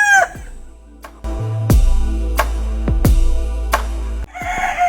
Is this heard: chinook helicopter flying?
no